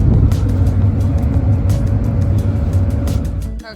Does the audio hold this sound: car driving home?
yes